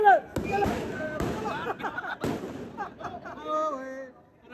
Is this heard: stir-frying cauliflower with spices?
no